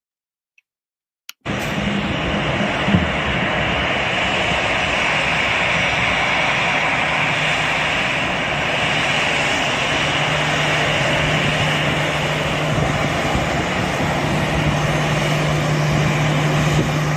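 Aircraft engines roar steadily at an airport as an African leader arrives, a loud, continuous broad drone that begins abruptly after a brief silence and holds without a break.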